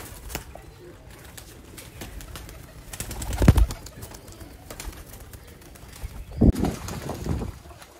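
Pigeons cooing among fancy pigeon lofts in Sialkot, with wing flaps and bird calls, two louder bursts of activity over a low background while someone talks.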